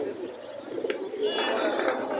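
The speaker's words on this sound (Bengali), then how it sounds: "ভাইয়ের কাছে আরেকটা কবুতর আছে, এই যে এই কবুতরটা লাল চোখে" Pigeons coo nearby at a busy open-air pigeon market in Bangladesh. Their low, soft calls run under a vendor's talk, with a brief chirp and a rise in crowd noise toward the end.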